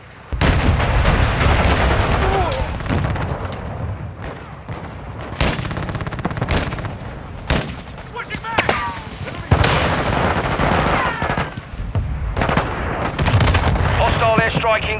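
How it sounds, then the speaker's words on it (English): Heavy explosive blasts from a friendly mortar strike in Call of Duty: Modern Warfare II pound a battlefield, with repeated booms and bursts of gunfire at irregular intervals, some near and loud, over constant combat noise and occasional radio-style voices. "Friendly mortar strike inbound."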